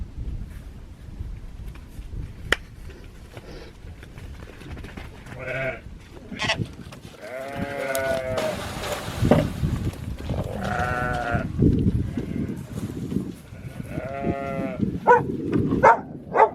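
Sheep bleat repeatedly, loud and close, in a string of wavering cries spread across the stretch, with rustling and handling noise between them.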